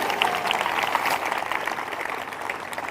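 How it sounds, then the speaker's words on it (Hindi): Audience applause at a Sunday evening church prayer meeting, a steady wash of many hands clapping together, fairly loud and close for a few seconds, with no speech over it. "ताली बजाकर धन्यवाद करें।"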